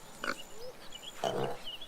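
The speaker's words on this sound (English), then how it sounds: "Clicking down on the left stick just makes you oink." A pig oinks twice in the video game Adorable Adventures, two brief grunting snorts spaced about a second apart, quiet against a faint background.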